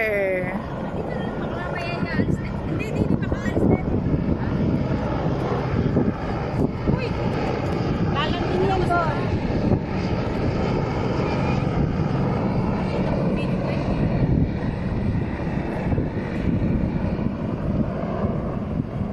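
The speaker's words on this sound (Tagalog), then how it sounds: "Ayan, ang rescue helicopter." A rescue helicopter flies over a seaside park, its engine and rotor droning steadily and loudly throughout, blended with wind buffeting the microphone while people talk over it.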